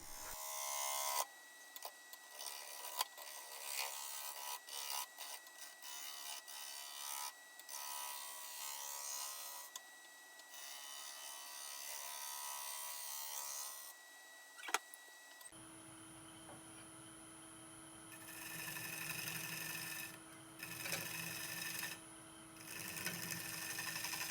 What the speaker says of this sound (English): a little bit of backwards cutting, a little bit of scraping